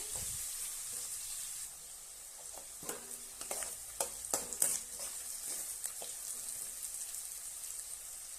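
Steady sizzling of onion and garlic frying in oil, with a bright hiss throughout and a burst of stirring scrapes and pops midway.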